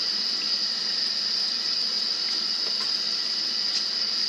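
Water runs steadily from a tap into a sink during a handwash with a dissolving soap sheet, a continuous even hiss with no break and no voices.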